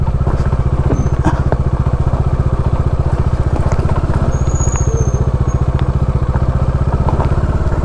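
Bajaj Dominar motorcycle riding off-road at low speed: a close, rapid pulsing engine putter runs steadily throughout, with scattered clatters and crackles from the rough terrain.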